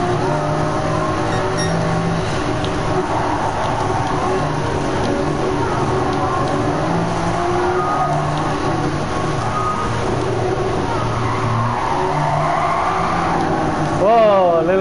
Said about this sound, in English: a little bit drifting in the corner right there